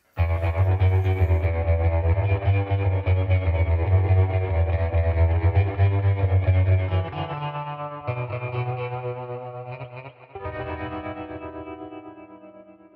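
Sustained electric guitar chords ring out through a 50-watt practice amp, colored with distortion and chorus, then trail off into a spacious reverb tail from the amp's independent reverb.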